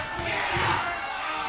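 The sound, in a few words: wrestling event crowd cheering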